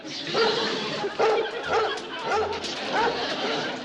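A dog in a 1960s television sitcom scene gives a series of repeated barks and yips at a steady rhythm, set amid busy background chatter and voices.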